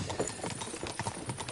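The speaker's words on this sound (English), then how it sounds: "Whip those fucking horses." Horses pull a cart in Kingdom Come: Deliverance II, with a dense, continuous clatter of hooves at a quick steady pace, close and fairly loud.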